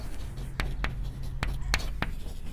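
Marker or chalk writing on a board during a physics lesson on kinetic theory, a handful of sharp taps and strokes over a steady low hum, with no talk.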